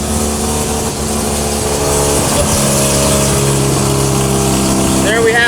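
A Mazda RX-7 FD with a suspected bad alternator cranks and starts up close, settling into a steady, loud running note with layered tones held through the rest of the moment.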